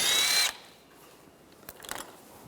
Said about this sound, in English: Take these two bolts out. Use a 10mm socket